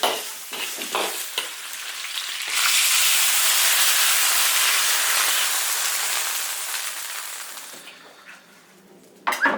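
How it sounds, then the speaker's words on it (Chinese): Stir-frying in an iron wok with ginger and dried chillies makes a loud sustained sizzle and hiss, a burst of steam as water is poured in, then the sizzling dies down with a few clanks. "炒香直接加水。"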